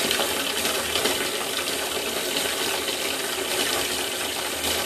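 Hot water gushes steadily from a tap into a basin for a foot soak, a continuous broadband rushing stream, close and fairly loud, with no talking.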